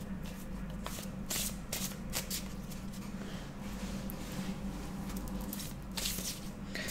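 A deck of tarot cards is shuffled and laid out by hand, with close, soft riffling bursts and papery slides repeating through the stretch, and no talking.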